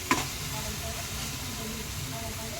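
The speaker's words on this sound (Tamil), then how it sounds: "வதங்கிருச்சு, இன்னும் கொஞ்சம் வதங்கணும்." Sizzling while onions and chicken masala saute outdoors in a pan, a steady close hiss with faint scraping of stirring running under it.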